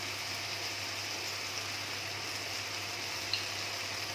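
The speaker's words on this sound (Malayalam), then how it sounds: "നമുക്കിനി ഇതിൻ്റെ പൊടിയുടെ പച്ചമണമൊക്കെ മാറുന്നിടം വരെ നമുക്കൊന്ന് വഴറ്റിയെടുക്കാം" Spice powders, coriander and garam masala, sautéing with fried chicken in a pan for chicken roast: a steady, dense sizzle and frying hiss throughout, close and even, with a low hum beneath and no talk.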